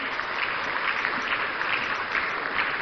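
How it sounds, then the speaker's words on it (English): A steady, dense wash of audience applause at Ghana's National Economic Dialogue 2025 conference, many hands clapping evenly and continuously at moderate loudness, with no voices standing out. "Another round of applause, ladies and gentlemen."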